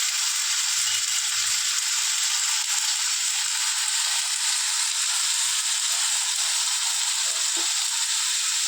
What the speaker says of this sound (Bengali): একটু নুন আর হলুদ দিয়ে ভেজে নেবো সবজিটাকে